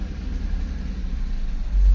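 Car traffic crawling in a Pune road jam, a low, steady engine rumble from a vehicle inside the queue, with a deeper surge near the end.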